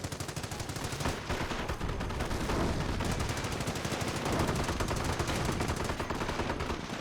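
Sustained .30 cal machine gun bursts and anti-tank gun fire in the Company of Heroes battle game, a dense, loud, continuous rattle of rapid shots with heavier booms mixed in and no pauses.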